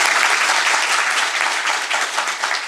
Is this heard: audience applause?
yes